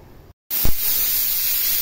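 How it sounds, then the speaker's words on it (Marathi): A pressure cooker whistle on a kitchen gas stove, releasing steam as a steady, loud, broad hiss that starts abruptly after a short silence and keeps going. "आपल्या इथे कुकरच्या शिट्या होत आहेत."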